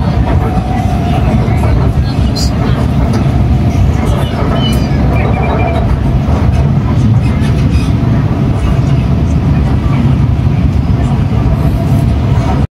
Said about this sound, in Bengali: এই হচ্ছে মেট্রো, এটা 2টা স্টেশন পরে আমরা গিয়ে নামবো